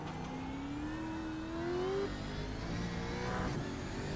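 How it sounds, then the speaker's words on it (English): Gen 3 V8 Supercar racing around a circuit, its V8 engine howling loud and close with a rising rev pitch, then easing and building again as it powers out of a corner. "listen to the beautiful V8 sound of these V8 supercars"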